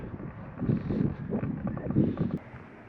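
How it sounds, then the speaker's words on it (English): Cold wind blowing outdoors on a farm while steers are being sorted, buffeting the microphone in low rumbling gusts that rise and fall. "That's a cold wind. I don't know if you can hear it"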